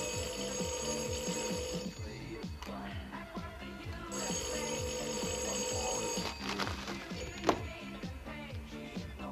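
A telephone rings in a 1970s French crime drama, a repeated bell-like ringtone with tonal bursts that pause briefly and resume over roughly nine seconds, fairly steady and moderately loud, with no talking.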